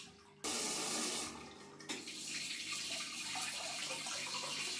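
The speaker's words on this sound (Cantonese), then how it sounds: "花灑有2種出水嘅方法，熱水夠穩定" A shower runs in a Pattaya hotel bathroom. After a brief quiet start, the water comes on with a sudden gush, then falls as a steady, close hiss with one short shift in the spray partway through.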